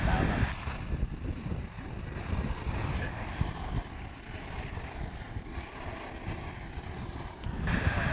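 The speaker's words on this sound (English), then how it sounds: "A flight arriving from San Antonio, Texas is this. American Airlines A319." American Airlines Airbus A319 arriving at Dallas/Fort Worth airport, a steady broadband engine roar with low rumble holding throughout, moderately loud and fairly close.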